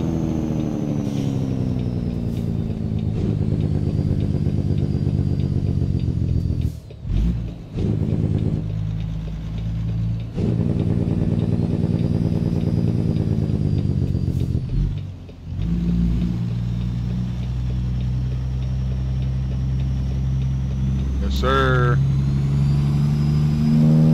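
A new truck drives along with a steady mid-range engine drone and repeated shifts and revs, briefly dipping a few times, with talking faintly underneath.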